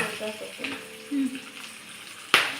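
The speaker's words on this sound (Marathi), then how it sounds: "मस्तपैकी फ्राय करू घ्या 2 मिनिटं." Capsicum frying in a pan gives a faint, steady sizzle with a few soft tonal hums, then a sharp clatter near the end.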